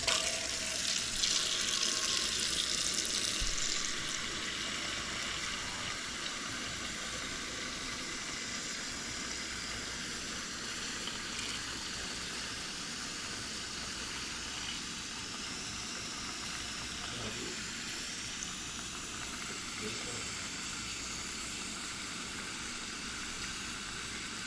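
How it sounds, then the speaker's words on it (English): Water runs steadily from a tap into a coffee maker reservoir nearby, a continuous rushing hiss that goes on for a long stretch without speech. "Fill it up with water."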